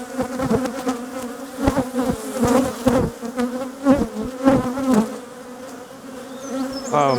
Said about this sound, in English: These bees are angry